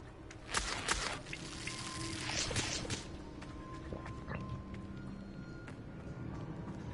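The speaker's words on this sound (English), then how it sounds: "The waterfall." Waterfall in the Hogwarts Legacy video game, heard as a moderate rushing, pouring water wash that is fuller at first and then settles into a quieter steady flow.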